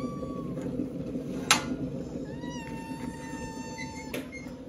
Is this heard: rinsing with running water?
no